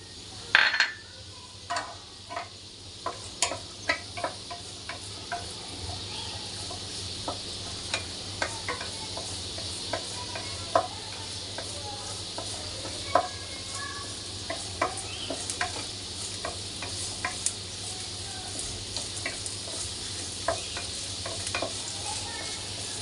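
Crushed ginger, green chili and garlic fry with coconut pieces in a pan, giving a steady close sizzle with frequent stirring clicks and scrapes throughout.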